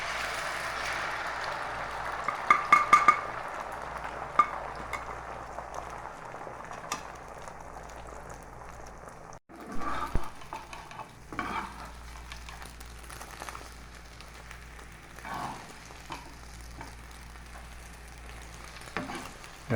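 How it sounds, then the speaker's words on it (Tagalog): An egg fries in oil in a hot pan with a soft steady sizzle, broken by a few sharp clicks of a utensil, then quieter scraping and frying toward the end. "Mainit yung kawali, lagyan natin ng mantika. Tapos lagyan natin yung itlog."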